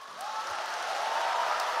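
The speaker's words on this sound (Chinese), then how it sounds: "我觉得观众鼓掌就是欢迎您的" A theatre audience at a Deyunshe crosstalk show breaks into applause, a steady wash of clapping that builds and holds throughout.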